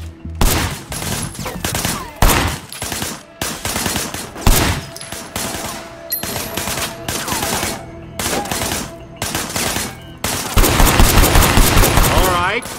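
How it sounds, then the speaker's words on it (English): Gunfire in the video game Sleeping Dogs: rapid bursts of automatic shots crackle in loud clusters separated by brief pauses, with a denser, heavier volley near the end. "I want you to put some bullets in a few things."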